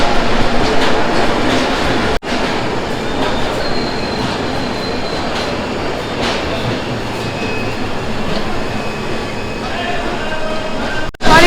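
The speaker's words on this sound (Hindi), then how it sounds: "फाइनली अराइवल होता है हमारी गाड़ी का" The Purabiya Express passenger train, coming in from Anand Vihar Terminal in Delhi, pulls into Gorakhpur station on a cold day with a loud continuous rumble, rattling wagons and squealing wheels, and the crowd's voices murmur underneath.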